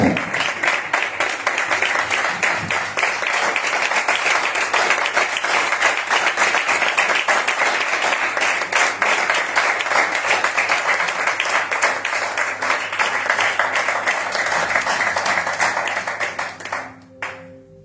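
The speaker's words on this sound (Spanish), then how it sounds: "dale fuerte las palmas al Señor" A church congregation claps hands hard and steadily, a loud dense sustained clapping with faint voices underneath, running continuously before tapering off abruptly near the end.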